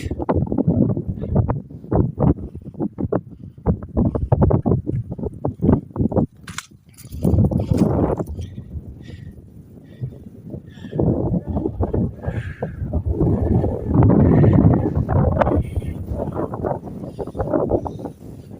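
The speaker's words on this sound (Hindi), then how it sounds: "बहुत तेज़ हवा चल रही है" Strong wind buffets and roars across the microphone in heavy, irregular gusts on a cold mountain peak, with bursts of rustling and a person talking intermittently beneath the noise.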